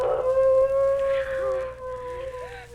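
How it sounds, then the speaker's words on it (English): Long wavering wolf howl from a 1963 Halloween ghost story record, a steady tonal cry with rising and falling pitch that holds throughout, loud and close with a faint low hum beneath. "If what made those footprints is doing that howling, then it must be a wolf."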